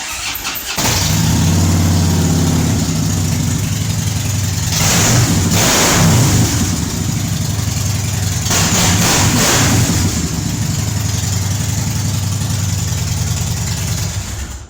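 A motorcycle engine cranks and fires up after a brief pause, then settles into a loud, rumbling idle with a couple of swelling revs, close by and alone.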